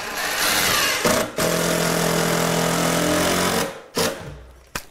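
A power drill whines steadily for a few seconds, stops briefly, then gives short bursts before falling silent.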